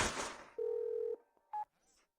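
A telephone number is dialed: a short burst of noise, one long steady keypad tone, then a brief second tone, each isolated and fairly quiet.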